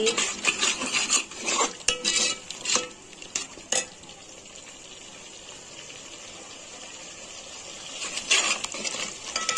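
Vegetable pulao being stirred in a pot, a spoon scraping and clinking against the metal in uneven bursts, close and fairly loud, with a quieter pause in the middle before the stirring picks up again.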